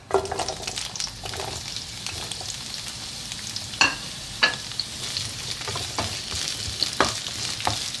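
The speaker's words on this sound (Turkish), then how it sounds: "Birkaç dakika biberlerimizi biraz böyle pişireceğiz. Ara ara karıştırarak." Green peppers frying in hot oil in a pan for an omelette, a close, continuous bright sizzle broken by several distinct stirring scrapes and clicks of a utensil, with no talking.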